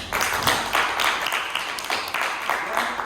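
Audience applause at a school English debate selection, a steady dense clapping wash throughout with a few swells, moderately loud and without talk.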